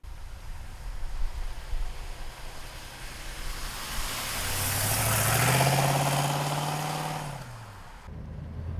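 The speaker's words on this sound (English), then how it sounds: "let's go for a ride in a 69 Mustang R-Code" A 1969 Ford Mustang R-Code starts up from a steady idle, then rises into a loud, throaty rev that swells and falls back before cutting off abruptly, heard up close with no talk.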